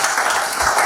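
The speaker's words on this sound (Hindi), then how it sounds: "जोरदार तालियां हम सब इनके लिए बजा रहे हैं।" Loud, dense applause from the audience at a Hindi-Urdu shayari poetry gathering, a continuous wash of many hands clapping with no gaps for the whole moment.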